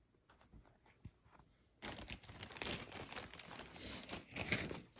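Plastic packaging around finished cross stitch crinkles and rustles loudly and continuously from partway through, after a quieter stretch with soft handling noises and a faint tonal hum.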